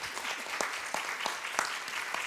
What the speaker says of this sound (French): qu'on les applaudisse très chaleureusement